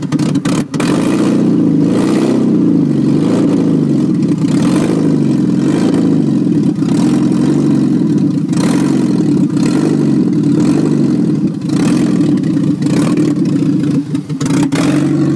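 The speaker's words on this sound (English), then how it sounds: "Very strong running engine." A 2.2 engine in an Isuzu Hombre pickup runs loud and close through a cut-off exhaust, revving up and down repeatedly in a steady rhythm over a rough, throaty idle.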